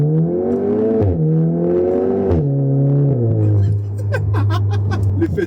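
Cupra Ateca SUV engine revving hard through rising and falling gear pulls, then settling to a steady drone while sharp exhaust pops and crackles burst out near the end, up close with a faint voice underneath.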